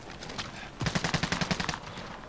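Gunfire in the video game Call of Duty: Warzone on Rebirth Island, a rapid burst of about a dozen automatic shots after a few scattered ones, fairly close and loud.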